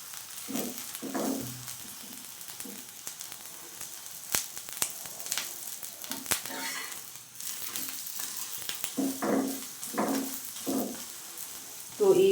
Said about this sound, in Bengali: তো এইভাবে আমি প্রত্যেকটাকে উল্টিয়ে পাল্টিয়ে ভালোভাবে সেঁকে নেব